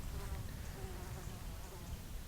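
A steady insect buzz hums continuously over a soft outdoor background, with no pauses.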